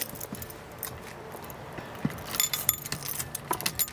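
A bunch of keys jingles and clinks in quick, irregular metallic rattles while someone gets them out to open a door, close by and growing busier toward the end, with no talking.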